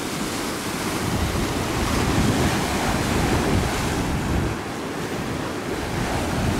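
Ocean waves break and wash continuously onto a beach, a loud, unbroken roar of surf mixed with wind buffeting the microphone, with no voices.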